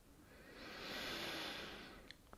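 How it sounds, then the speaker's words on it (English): A person breathes slowly and audibly in a quiet office, one long soft breath swelling and fading, with a faint click near the end. "I'm breathing."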